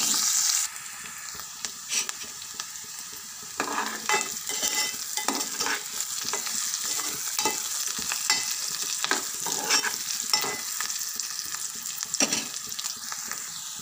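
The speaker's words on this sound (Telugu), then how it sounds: "చూడండి, ఉల్లిపాయ ముక్కలు వేసేస్తున్నాం. ఉల్లిపాయలు కాసేపు మగ్గనివ్వాలండి." Onion pieces sizzling in hot oil with curry leaves, a steady moderate sizzle with intermittent stirring scrapes, close and alone without talk.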